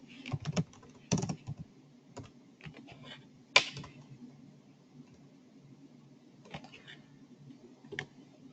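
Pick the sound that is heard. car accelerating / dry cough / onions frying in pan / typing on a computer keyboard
typing on a computer keyboard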